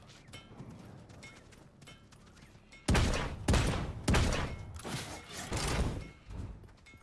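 Gunfire in the video game Realm Royale: after a quiet opening, several loud bursts of rapid shots come in quick succession, close and harsh, with short gaps between volleys.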